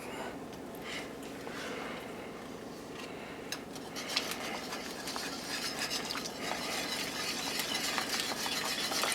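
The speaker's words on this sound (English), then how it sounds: "I'm going to stir that in real good. Stir until it gets smooth." Sour cream being stirred into meatball sauce in a pan, heard as a faint, steady wet swishing with scattered light clinks of the utensil against the pan, growing a little busier toward the end.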